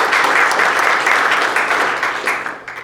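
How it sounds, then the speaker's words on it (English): A meeting audience in Raleigh gives a round of applause for a presenter, a dense steady clapping that fades toward the end. "let's give him one more round of applause"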